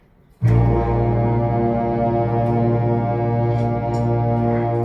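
A school concert band plays a sustained low C in unison; it enters suddenly and holds as a steady, loud, rich chord for several seconds with no talking.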